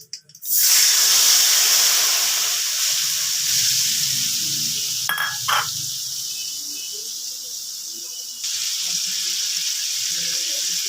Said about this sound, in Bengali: এবার মশলাটা কষিয়ে নিচ্ছি। মশলাটা আবার দিয়ে দিলাম কড়াতে।